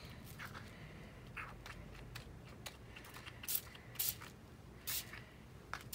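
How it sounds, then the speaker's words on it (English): Short airy spray-bottle squirts misting a paper craft project before mica stain, several brief hisses over a steady low background hum. "So I'm going to give one more squirt"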